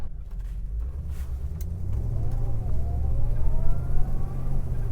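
A 1972 Ford Mustang Mach 1 drives along, its engine rumbling low and steady from inside the car while a rising whine builds as it gathers speed.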